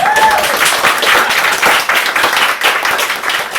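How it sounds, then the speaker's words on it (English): A room at an open-mic evening breaks into applause for a performer, dense steady clapping lasting throughout, fairly close and loud, with faint voices mixed in. "Give it a round of applause"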